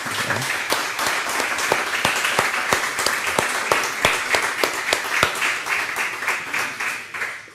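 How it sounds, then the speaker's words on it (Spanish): An audience gives a professor a round of thanks applause at the close of a lecture session: dense, sustained clapping from many hands, fairly close and steady throughout before thinning slightly at the end. "Podemos despedir al profesor Montero con un aplauso de agradecimiento por su trabajo"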